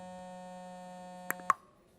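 A phone rings with a steady electronic tone that holds for over a second. It cuts off abruptly after a couple of clicks, as if answered or hung up, in an indoor film scene.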